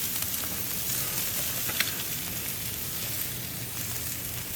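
Salmon sizzles steadily on a hot grill just after being flipped skin side up, a continuous bright hiss with occasional small pops, close and fairly loud, with no talking.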